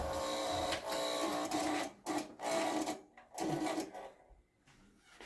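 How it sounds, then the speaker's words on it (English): Interlock coil in a 1980 Bally Skateball pinball machine buzzes loudly in several harsh bursts, stopping and restarting with short gaps before fading out. "my interlock coil was getting a little loud there"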